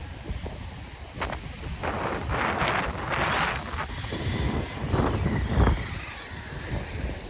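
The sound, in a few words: Arrma Outcast 6S EXB RC car at full throttle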